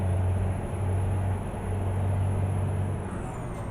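A tractor-trailer in American Truck Simulator carrying fertilizer brakes hard, with a steady loud low engine drone and road roar throughout and a thin high whine that drops away near the end.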